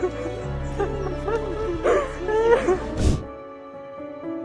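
A lost dog, reunited with its owners after surviving hardship, lets out several close, high whimpers and yips, with a few short barks mixed in. Sounds of the people around it are heard underneath.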